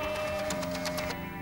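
An office printer runs through a print job indoors, a steady mechanical whir with short rhythmic clicks and feed sounds, fairly close and without talk.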